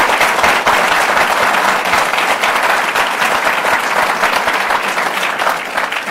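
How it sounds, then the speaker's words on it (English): A university event audience claps in a loud, sustained round of applause, dense and steady throughout with no pause. "let's have another big round of applause for her."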